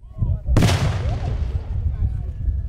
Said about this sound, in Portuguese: com a detonação que vocês acabaram de ver